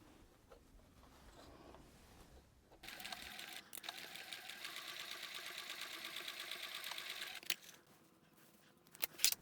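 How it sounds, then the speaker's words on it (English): A sewing machine stitches a straight seam down the side of folded cotton-style fabric for a small pumpkin decoration, running steadily for about five seconds at close range after a quiet start, then stopping with a few clicks. "then I'm going to sew down this side here"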